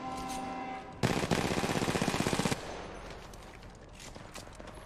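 Automatic weapon fire in the video game Apex Legends Mobile comes as a loud, rapid burst of about a dozen evenly spaced shots lasting roughly a second and a half, then fades into quieter game noise.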